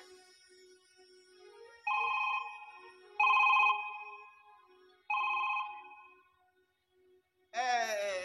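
A telephone ringtone trills in three separate bursts a little over a second apart, loud and close against a quiet room, before a final brighter warbling tone cuts in at the end.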